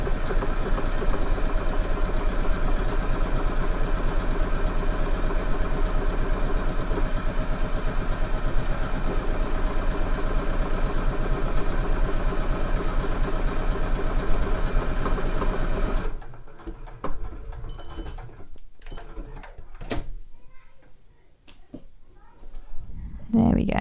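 A domestic sewing machine runs at a fast, even pace stitching trouser fabric, a loud continuous mechanical whirr for about sixteen seconds, then stops, leaving quiet handling noises and faint rustling.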